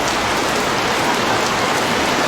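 Heavy rain pours down steadily in Dire Dawa or Harar, Ethiopia, a dense, constant hiss of drops drumming on surfaces, loud and unbroken with no voices.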